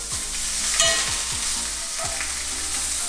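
Pieces of venison heart sizzle and crackle steadily in a hot frying pan right after being flipped, with a few scraping stirs against the pan, close and continuous with no talking.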